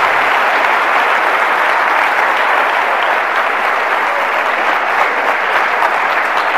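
Strong, steady audience applause at a UFO contact congress, dense and uniform clapping from a large crowd filling the hall without pause or voices.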